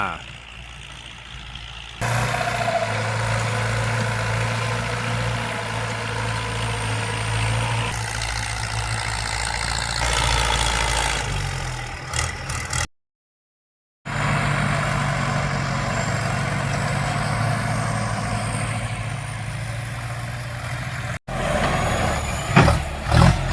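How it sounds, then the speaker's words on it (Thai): Two bulldozers pushing soil with their front blades toward low ground while converting an orange orchard into rice fields; heavy diesel engines drone steadily and loudly throughout, with a brief gap midway and some clattering near the end. "อ้าวทั้งคู่ก็ เริ่มใช้ใบด้านหน้านะครับ พาดินไปที่ต่ำตรงนู้น"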